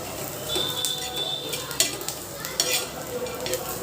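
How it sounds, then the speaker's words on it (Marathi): Masala and onions frying in oil for a dhaba-style egg curry, a steady close sizzle with scraping stir strokes and a few sharp clinks of a spoon against the pan. "ते सुद्धा तेलामध्ये चांगलं परतून घ्यायचं आहे"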